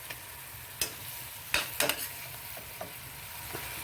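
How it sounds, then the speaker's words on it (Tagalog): Onion and garlic sizzle steadily in a hot pan, with a few sharp clatters from stirring spoon strokes over the frying hiss. "saute onion, garlic"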